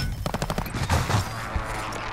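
Rapid gunfire from a Call of Duty Plunder match in Warzone, a string of sharp cracks in the first second giving way to a mixed battle din and rumble, fairly loud throughout.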